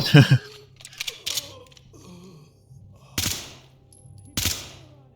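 9mm gunfire in the tactical shooter Ready or Not, with a few sharp, separated shots spaced over several seconds amid quieter in-game clatter and faint movement noises.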